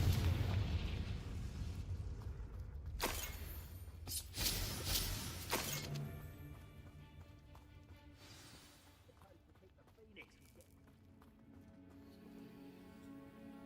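A Confringo spell explodes in the Hogwarts Legacy video game, making a loud fiery burst with crackling debris after a shattering crash and a rumbling tail that fades into quieter game ambience.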